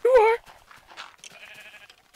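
A short, loud bleat from a sheep in the video game Minecraft, followed by quieter scattered game sounds and faint tones.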